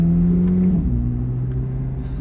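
Chevrolet Corvette C8 Z06 engine heard from the cabin, a loud steady low drone whose pitch sags slightly as it settles, with no talking over it.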